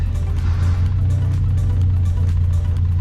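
Suzuki Cappuccino engine idling with a microsquirt fuel setup, a steady low throbbing hum with even pulses, close up and constant for the whole stretch.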